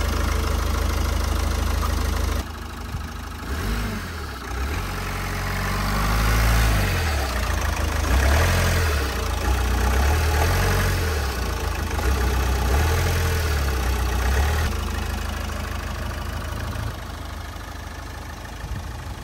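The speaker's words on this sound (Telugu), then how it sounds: "నెక్స్ట్ మీకు ఈ వెహికల్ సంబంధించినటువంటి ఇంజిన్ నాయిస్ ఏ విధంగా ఉందో కూడా వీడియోలో నేను క్లియర్ కట్గా చూపించడం జరుగుతుంది" A used car's engine idles close by, a steady low rumble that swells and eases slightly, with no voices over it.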